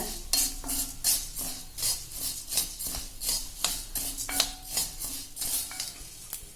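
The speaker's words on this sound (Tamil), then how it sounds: "உளுந்த செவுக்கிற வரைக்கும் நல்லா வறுத்துக்கணுங்க" Urad dal roasting in a pan while being stirred continuously for idli podi, with rapid rhythmic scraping and clinking of a metal spoon against the pan over a faint sizzle.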